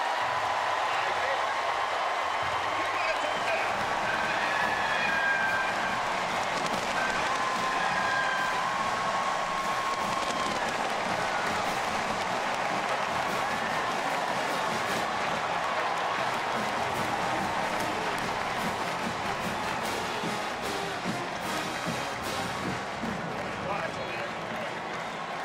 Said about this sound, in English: These fans have been waiting and waiting for something to cheer about since last Thursday.